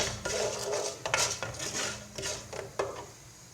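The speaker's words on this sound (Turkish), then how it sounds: "Öncelikle bu şekilde birazcık kavuralım rengi dönene kadar." Rice being sautéed in a pot for chickpea pilaf, heard as a spoon scraping and clinking against the pot in a few irregular strokes over a soft, steady sizzle, close and fairly quiet.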